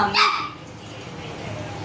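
A young puppy lets out a brief high yelp at the start, then softer whimpering noises continue under a person talking nearby.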